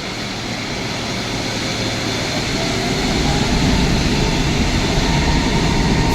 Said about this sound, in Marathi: सौदियाला चाललंय हे विमान.